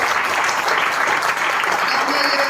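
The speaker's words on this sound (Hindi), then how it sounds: "एक जोरदार तालियां परमेश्वर की।" A congregation at a Hindi-language church worship service gives loud, sustained applause that fills the whole moment with dense, continuous clapping.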